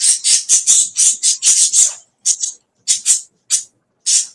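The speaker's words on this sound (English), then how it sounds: "I can hear the birds." Pet birds, including one named Teardrop, squawk at night in a rapid run of short, loud, harsh calls, then a few more spaced squawks after a brief pause, close by with no talking.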